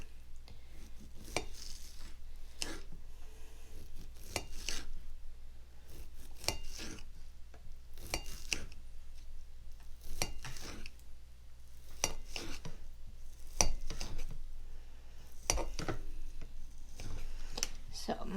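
A knife slices through rested Instant Pot glazed pork chops on a cutting board, producing repeated sharp taps at an irregular rhythm over a low steady hum.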